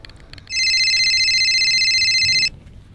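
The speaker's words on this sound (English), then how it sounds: "Oh, there's your phone call. It's ringing at the moment." A telephone rings in one steady electronic burst lasting about two seconds, clear and fairly loud over a quiet indoor room, with no talking.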